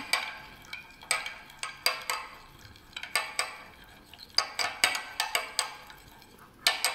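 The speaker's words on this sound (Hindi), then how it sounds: "और अब हम इसको करेंगे मिक्स, मिक्स वेल करेंगे।" A spoon stirs ghee and honey together, making a quick, uneven run of close metallic clinks and scrapes against the container with short pauses.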